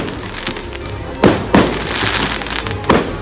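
Fireworks from an outdoor display crack and boom in a few sharp, loud bursts over a continuous rumbling crowd-like background, with three distinct explosions spaced unevenly across the short stretch.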